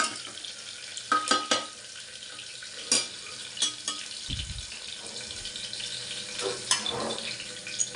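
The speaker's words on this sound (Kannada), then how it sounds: "ಈರುಳ್ಳಿ ಹಾಕ್ಕೊತಿದ್ದೀನಿ" Chopped onions hiss and crackle gently in a hot pan in a home kitchen, a low steady frying bed punctuated by occasional clinks and scrapes of a utensil, close and quiet.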